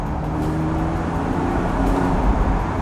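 A 2006 Porsche 911 Carrera 4S Cabriolet drives at slower speeds, heard as a steady low engine drone and road rumble from inside the car, with no voices.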